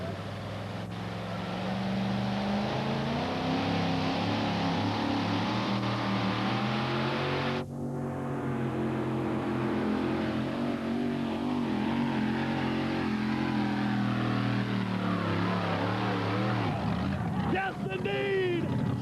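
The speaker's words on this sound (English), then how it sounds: "Jim Brockman ready to test himself in the 1908 Chevy C-Cab" A 1908 Chevy C-Cab two-wheel-drive pulling vehicle makes a full pull at a 1989 NTPA tractor pull in Hildreth, its engine roaring loud and sustained throughout, with an announcer talking over it.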